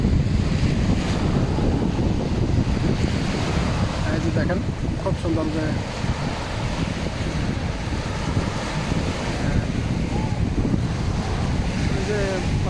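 Steady roar of surf washing onto Al Jassasiya beach in Qatar, with debris washed up from the sea, buffeted by wind on the microphone, with a person talking over it.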